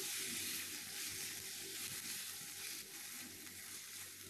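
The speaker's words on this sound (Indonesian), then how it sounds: "Tumis terlebih dahulu bawang putih yang sudah kita cacah-cacah. Setelah warnanya berubah kecoklatan, masukkan daging yang sudah kita marinasi dengan nanas, lada, dan sedikit garam aduk." Chopped garlic and meat marinated with pineapple, pepper and a little salt sizzle and fry in a pan, a soft steady hiss with faint stirring, heard alone and quiet.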